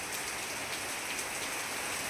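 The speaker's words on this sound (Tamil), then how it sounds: "உண்மையிலே சொல்கிறேன், செம்மையாக மழை பெய்யுது" Heavy rain pours steadily and closely onto surfaces, a dense continuous hiss of drops with no clear thunder or wind gusts standing out.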